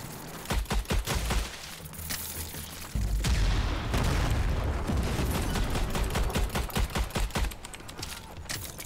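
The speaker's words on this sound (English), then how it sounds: "Grenade." A grenade blast and rattling gunfire in the co-op shooter Strange Brigade: sharp rapid shots, then a heavy booming explosion with a rumbling tail, followed by more scattered bursts of fire, loud and close.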